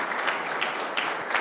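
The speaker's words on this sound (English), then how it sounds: "So round of applause for them." A live-streamed AI meetup audience gives a brief round of applause, a dense steady patter of many hands clapping at close range, with no voices.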